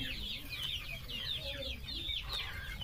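Local farm chickens cluck continuously at close range, their calls overlapping in a busy, steady chatter with thin high chirps mixed in.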